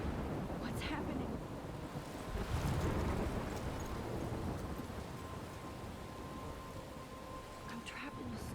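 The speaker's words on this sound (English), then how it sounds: "I'm trapped in a storm?" A thunderstorm in the video game Life Is Strange: steady heavy rain and wind with a low rumble of thunder swelling midway, a continuous dense wash of storm noise with no talk.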